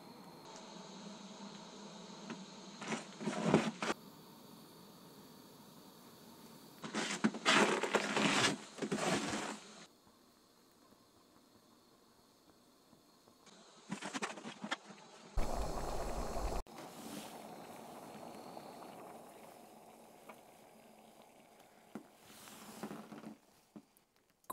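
An Optimus camp stove burns gas in freezing cold around -20 °C, giving a steady close-up hissing roar with louder bursts and dips as the flame is adjusted, alone without talk.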